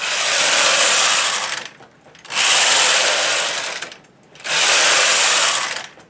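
Knitting machine carriage sliding across the needle bed for rows of a slouchy pile hat, heard as three long, loud whooshing passes with short pauses between them.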